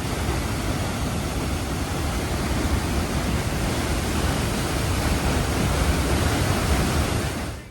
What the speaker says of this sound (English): the 3 open windows, I guess, where all the water can just rush down